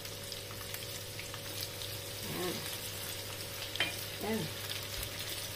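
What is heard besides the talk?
frying two large shrimp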